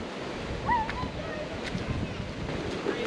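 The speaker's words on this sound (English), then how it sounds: "It's windy." Gusting wind by a river in Linville Gorge, a steady broadband rush with buffeting on the microphone that holds through the moment, faint sounds and a brief vocal cry poking through.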